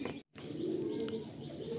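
A pair of Kaldom pigeons, a male and a female, coo softly up close with low, sustained throaty calls, broken by a brief silent gap near the start.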